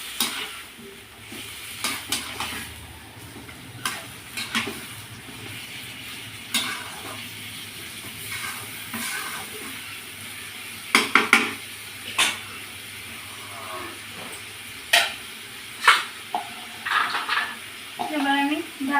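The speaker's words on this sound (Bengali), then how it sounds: "এটা সুন্দর করে নেড়ে চেড়ে ঢাকা দিয়ে দিয়ে কষিয়ে নেব।" Country chicken masala fries in a pan with a little water, a soft sizzle running underneath while a spoon scrapes and clatters against the pan in irregular bursts, growing busier toward the end.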